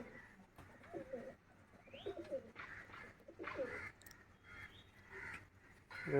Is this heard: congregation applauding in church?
no